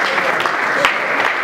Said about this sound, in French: Sous vos applaudissements, Willy Mambou, ce soir avec nous.